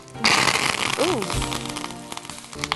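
Curry leaves drop into hot tempering oil with peanuts and seeds for mango pulihora, setting off a sudden loud crackling sizzle that continues steadily under a talking voice.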